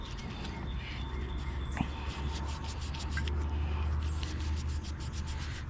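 A rag scrubbed hard across an engine part on a 3.6L Pentastar V6 in a 2009–2020 Dodge or Jeep gives a steady, close rubbing hiss over a low background hum, with faint bird chirps far off.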